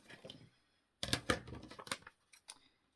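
Scissors snip through paper in a quick series of crisp cuts, close by, with short pauses between strokes.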